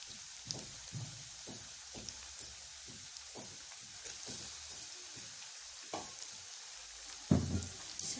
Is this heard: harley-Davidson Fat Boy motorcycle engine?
no